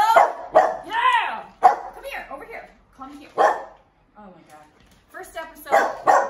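A dachshund barks close and loud in sharp, repeated bursts with short yips and whines between them, while a person talks at the same time.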